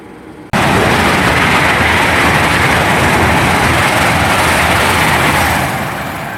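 A Great Western Railway class 802 train roars through Pangbourne station, starting abruptly and staying loud and close as a steady broadband rush of wheels and engine, easing slightly at the end.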